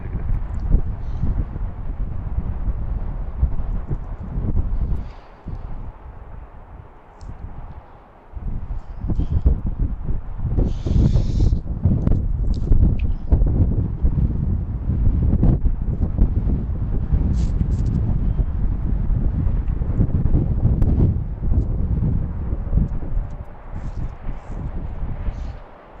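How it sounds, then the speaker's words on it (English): Strong gusty wind buffets the microphone outdoors at BWI airport, rushing and rumbling loudly in uneven surges, with brief lulls and a voice talking now and then. "The wind's really picking up."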